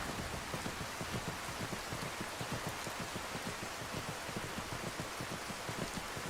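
Steady rain falling in the Skyrim video game while riding outdoors past a mill, a dense continuous patter with close drops and a soft wash, heard alone with no talk.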